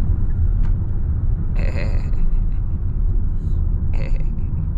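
A Hyundai Palisade Facelift cruises on a toll road, giving a steady low rumble of road and engine noise throughout, with a few brief higher clicks or taps layered on top.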